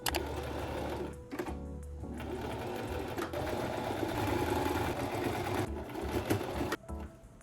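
A sewing machine stitches fabric along its edges, a steady close mechanical whir and rapid needle clatter running almost continuously, with a couple of brief stops and restarts.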